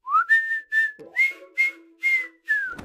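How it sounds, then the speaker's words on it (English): A single person whistles a short jingle alone, a run of about seven bright, clear notes in a quick bouncing rhythm, close and fairly loud, with brief gaps between phrases. "There was this one jingle that, if whistled"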